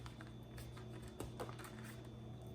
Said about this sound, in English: I'm going to shuffle this for you guys